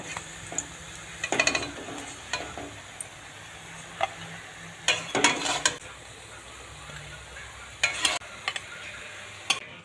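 Cabbage pakoras frying in oil over a low flame, giving a soft continuous sizzle broken by intermittent clinks and scrapes of a utensil against the pan.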